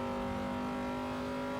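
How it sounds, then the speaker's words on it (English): Car engine in the Assetto Corsa racing game during a short test drive, a steady, loud droning hum holding an even pitch throughout with no talking. "I'll just give this a quick little test drive around here."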